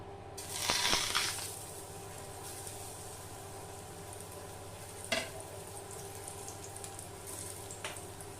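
Surmai fish frying in oil on a tawa over a low gas flame, a burst of sizzle as the fish goes in, then a quiet steady hiss with a couple of brief clatters.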